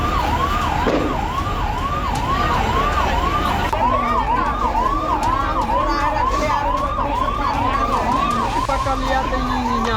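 Several fire engine sirens wail continuously at a warehouse fire in Patna, their repeating rising and falling tones overlapping loudly throughout, with a second siren joining partway and traffic noise beneath.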